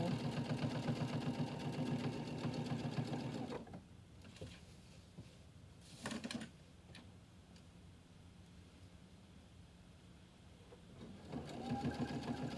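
A sewing machine runs in steady, rapid stitching bursts, loud at the start, pausing in the middle with only faint handling noises, then starting up again near the end.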